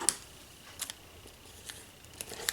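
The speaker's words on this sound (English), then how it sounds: "Get my scissors again." Scissors snipping material while a mug coaster is being made, a few crisp, sharp clicks spaced irregularly, close and fairly quiet against a still background.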